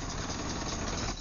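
A vehicle engine runs steadily as someone boards, a dense, loud, close rumble that holds evenly for about a second before easing off slightly at the end.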